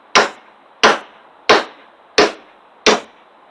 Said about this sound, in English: a couple taps with the hammer